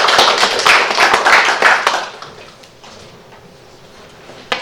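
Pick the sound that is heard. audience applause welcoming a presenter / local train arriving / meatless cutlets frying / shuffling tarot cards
audience applause welcoming a presenter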